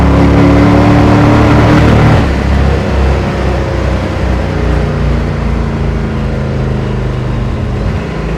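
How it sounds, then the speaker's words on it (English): A 1970 Chevrolet Chevelle SS accelerates hard, its V8 roaring loudly from inside the car before easing into a sustained, slightly lower drone with road noise underneath. "Got good acceleration."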